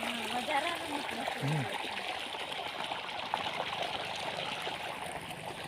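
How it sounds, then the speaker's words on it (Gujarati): Steady rushing and trickling of irrigation water flowing continuously into a farm field channel nearby, with a faint voice briefly in the background. "અહીંયાથી પેલા પારિયામાં પાણી જાય છે"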